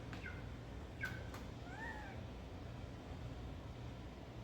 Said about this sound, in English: That sounds like a quail.